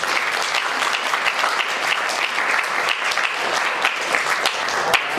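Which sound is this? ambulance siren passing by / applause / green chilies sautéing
applause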